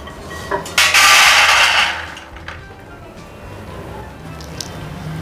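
Roasted peanuts poured from a pan into a bowl, a brief rattling rush of dry nuts lasting about a second, followed by a few faint clinks and quiet kitchen background.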